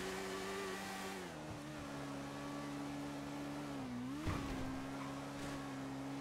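In a GTA roleplay driving game, a car engine drones steadily at a sustained pitch, sagging and then climbing again as it accelerates, with a brief knock partway through. The engine plays alone with no talk.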